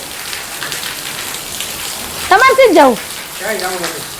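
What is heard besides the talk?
heavy rain falling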